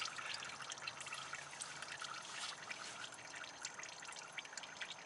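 Thin 0W30 motor oil drains from the engine of an Alfa Romeo Stelvio Ti Sport during its first oil change, a faint continuous trickle and splash pouring steadily into a catch pan.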